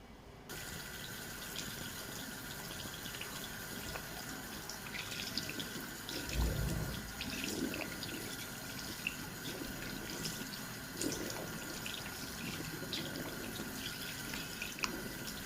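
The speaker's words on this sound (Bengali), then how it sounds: "বরাবরের মতো আমি সেই ডাব সাবান দিয়ে মুখটা ক্লিন করতেছি" Tap water runs steadily into a sink while a face is washed with Dove soap, a continuous close stream with soft splashes and drips throughout, no voice over it.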